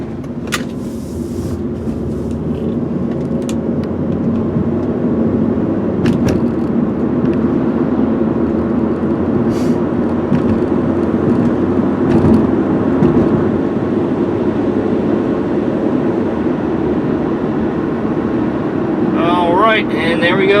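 A 2001 Nissan Altima GLE sedan cruises at about 55 mph, heard from inside as a loud, steady drone of engine, road and wind noise, with a voice talking over it.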